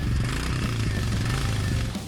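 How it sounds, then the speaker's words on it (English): A 2023 Royal Enfield Bullet 350 motorcycle exhaust note, a loud, close, steady low thumping drone running throughout with no voices. "it does have its own sweet sounding and unique exhaust note"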